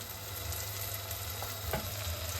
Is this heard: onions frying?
yes